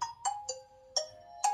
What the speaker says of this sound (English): Do get an okay tone